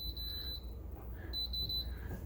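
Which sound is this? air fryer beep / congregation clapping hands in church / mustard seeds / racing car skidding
air fryer beep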